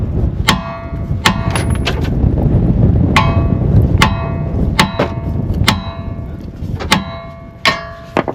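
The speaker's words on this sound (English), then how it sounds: "Give it some real good hard smacks" Hard hammer smacks on a Dodge Journey front strut nut ring out as about ten sharp metallic strikes at an uneven pace, close and loud over a low background rumble.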